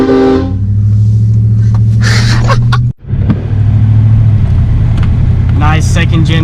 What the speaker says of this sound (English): I'm driving this truck with the train horns, and we're kind of getting people's reaction to it.